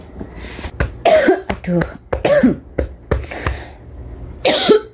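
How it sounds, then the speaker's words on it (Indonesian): A person coughs several times in harsh bursts, loud and close, with throat clearing and a short spoken word mixed in. "aku yang gak mlebu kamar simbah gitu mesti langsung batuk-batuk"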